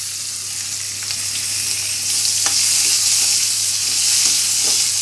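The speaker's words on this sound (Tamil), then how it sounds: "நல்லா ப்ரௌன் கலரில் வரணும், அது வரைக்கும் நல்லா ஃப்ரை பண்ணோம்" Onion frying in a pan with garlic and ginger for prawn gravy: a loud, continuous sizzle that swells slightly, with a few faint stirring ticks and no voices.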